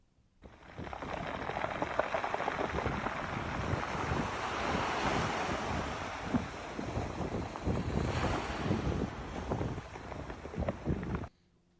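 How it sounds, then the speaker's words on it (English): Ocean waves wash over a stony shore, rolling rocks with a steady rushing roar broken by gravelly clatters, loud and close with wind buffeting the microphone for about eleven seconds. "we hope you can relax and enjoy the calming sound of rocks rolling in the waves"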